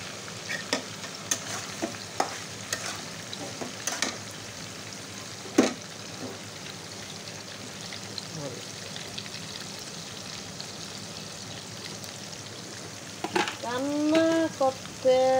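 A drumstick and shrimp curry cooking in a pan gives off a soft, steady sizzle and bubbling with scattered faint clinks, and a brief vocal sound comes near the end.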